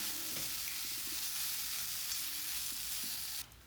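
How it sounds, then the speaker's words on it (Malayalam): Diced potato and soya chunks sauté with masala in a hot pan, producing a loud, continuous close sizzle with occasional soft stirring scrapes before it suddenly drops off at the end. "അതിലിതാ നമുക്ക് കിഴങ്ങ് നുറുക്കിയതും സോയാ ചങ്ക്സിൻ്റെയും അതതിൽ ചേർക്കണം"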